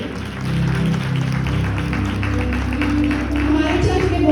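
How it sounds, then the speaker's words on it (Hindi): Women in a church congregation clap together for several seconds, a dense steady patter of applause under a voice. "एक बार जोरदार तालियां हो जाए सभी बहनों के लिए"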